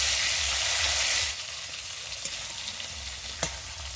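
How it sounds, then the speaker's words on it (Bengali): Hilsa fish fries lightly in a pan with a steady hiss of sizzling oil, loud at first then quieter after the fish is moved, with a few small clinks of a utensil. "তবে আমার একটু হালকা মাছ ভেজে নিলে খেতে ভালো লাগে, তাই আমি একটু মাছটাকে হালকা করে ভেজে নেব"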